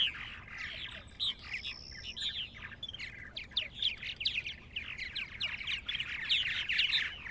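Purple martins and their baby birds at the nest chirp and squawk in a steady, overlapping stream of high calls, moderately close, against a faint outdoor background.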